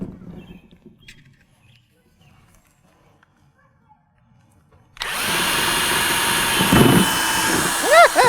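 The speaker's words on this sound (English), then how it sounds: "We're gonna drill some holes" A power drill whirs steadily as it bores holes in a garden container on a backyard deck, starting abruptly after a quiet stretch with faint movement and running loud and close, pitch shifting as it bites.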